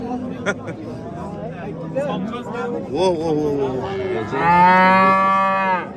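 Cattle at the Beshariq livestock market give a loud, drawn-out moo near the end, close to the microphone, after several seconds of people talking amid the market's background chatter.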